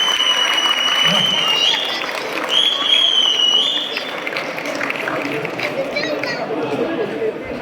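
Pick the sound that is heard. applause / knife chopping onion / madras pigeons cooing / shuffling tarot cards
applause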